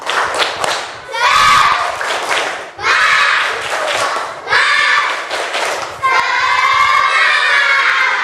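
A fourth-grade primary school class in Bekasi, Indonesia, performs a loud call-and-response clapping chant, with bursts of rhythmic hand claps over children's shouting voices and brief pauses between rounds.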